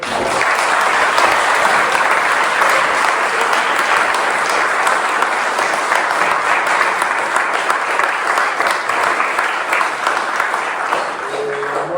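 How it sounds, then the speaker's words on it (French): Sustained audience applause fills a hall at the closing ceremony of the 2025 eloquence competition, steady dense clapping at full strength throughout without pause. "on va quand même tous vous applaudir"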